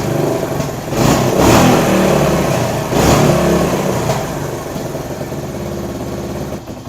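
A Kawasaki KL250 motorcycle engine runs after a carburetor repair, idling low and close with a few sharp throttle blips that swell and fall back, no talking.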